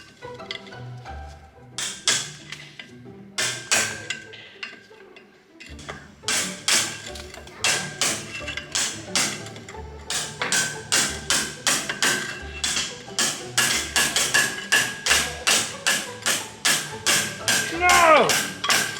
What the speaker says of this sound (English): I'm going to beat out all this stuff right here with the hammer and chisel